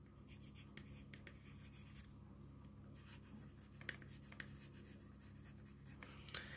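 A pen scratches steadily across paper, hand-lettering an axis label on a graph. The writing continues in close, busy strokes throughout with no talk.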